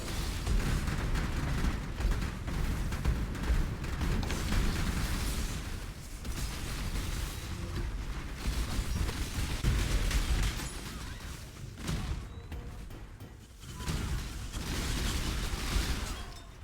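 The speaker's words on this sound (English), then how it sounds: "sometimes you get cool little explosions like that" Game explosions and bursts from Path of Exile, a dense, continuous barrage of pops and booms layered over busy combat effects and music, loud throughout with brief dips near twelve and thirteen seconds.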